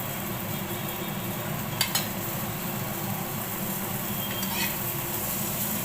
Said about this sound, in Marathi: पटकन फ्राय होईल मच्छी